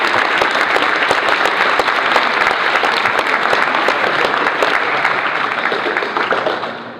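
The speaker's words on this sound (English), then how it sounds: "So a round of applause for those guys" A crowd at an awards ceremony for a season-opening competition gives a round of applause, dense steady clapping filling about seven seconds before fading slightly at the close.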